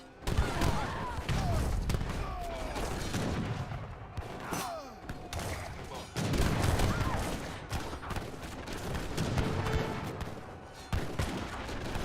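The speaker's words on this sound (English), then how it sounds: "Cannons take out the villagers." Repeated booming cannon fire mixed with volleys of musket shots in a real-time strategy battle in Age of Empires 3, dense and continuous, with a commentator's voice talking over it.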